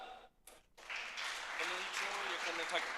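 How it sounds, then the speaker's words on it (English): Audience applause at a blockchain conference main stage in Warsaw, rising after a brief quiet gap into moderate clapping from the crowd, with voices and a speaker talking over it. "Clap it up."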